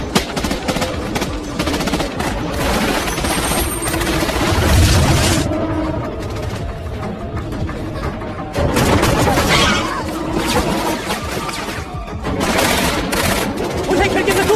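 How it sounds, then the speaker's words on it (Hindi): Sustained gunfire from a film's siege scene, bursts of rapid shots and booms running through the whole stretch, with voices talking beneath the shooting. "फायर करते रहो।"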